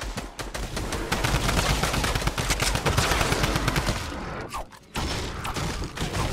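Loud, rapid bursts of gunfire in the video game Fortnite, near and continuous for several seconds with mechanical clatter, then a brief dip and a return of shots.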